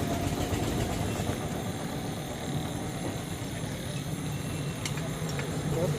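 An old Hero Honda Splendor motorcycle, over 15 years old and with an engine sound problem, idles steadily at a low, even rumble throughout, fairly quiet and close, with no one speaking.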